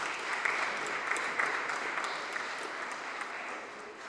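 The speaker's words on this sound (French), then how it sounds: "applaudissons encore une fois pour Monseigneur" An audience at an international colloquium applauds steadily, a dense wash of many hands clapping at moderate volume that carries on throughout and eases slightly toward the end.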